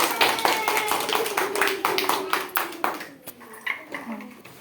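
Children clap their hands in a school activity session, a run of sharp, irregular claps close by that thins out toward the end, with voices faintly audible in the background.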